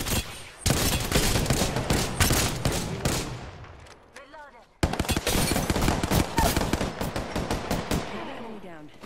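Sustained automatic gunfire in Apex Legends, dense rapid shots hammering nearly continuously, loud and close, with a brief lull and a whooshing sweep before another long burst.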